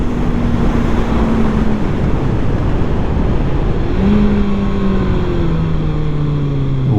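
Engine of a 2020 Kawasaki ZX6R motorcycle while riding, a steady loud drone with pitch shifting through gear changes and rising revs, wind noise constant throughout.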